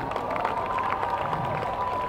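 An audience claps together, a steady, dense patter of many hands close by with voices mixed in.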